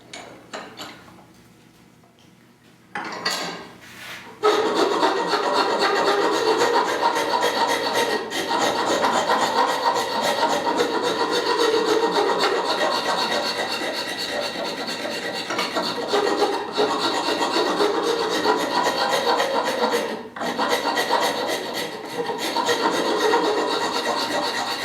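A file rasps steadily along the edges of a Scout grip to smooth and round them, a close, continuous scraping stroke after a few quieter seconds, with short pauses and no speech.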